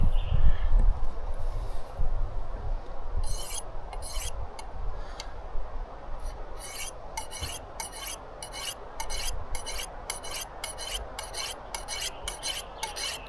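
A stainless steel knife blade is drawn across a sharpening surface in a run of rhythmic rasping strokes, quick and close, with short gaps between passes and no talk.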